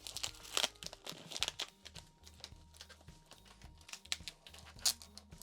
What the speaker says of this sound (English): Let me take this plant out of the packaging a little bit,